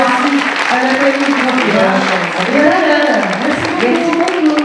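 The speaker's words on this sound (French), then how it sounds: "On les applaudit bien fort" Audience applause at the final of a Super Mamie du Roussillon grandmother election, a dense continuous wash of clapping filling the clip under an announcer's voice and crowd noise.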